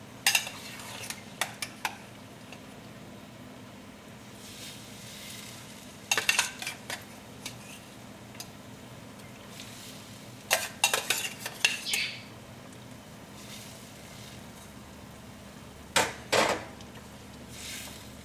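Broiler chicken is tipped into a Kerala chicken curry pot and stirred, with sharp metallic clinks and scrapes of a spoon against the pot arriving in irregular bursts between quieter pauses, close and fairly loud.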